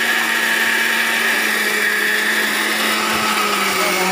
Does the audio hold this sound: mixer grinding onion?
yes